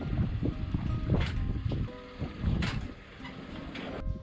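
Wind gusts and water wash around a small boat drifting onto a dock in wet weather, a steady close rumble of wind noise on the microphone with a few brief knocks.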